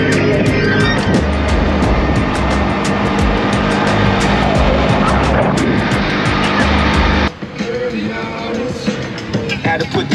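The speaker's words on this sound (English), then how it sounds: "This some Rio traffic" Busy street traffic in Rio de Janeiro, a loud, dense roar of passing engines that drops abruptly near the end to quieter background noise.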